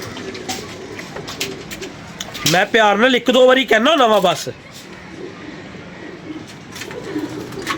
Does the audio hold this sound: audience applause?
no